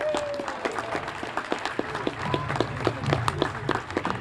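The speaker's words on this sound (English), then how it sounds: "You can keep the clapping going" Sparse, scattered clapping from a small crowd at an outdoor Cape Verdean flag raising, individual claps standing out fairly quietly over background murmur.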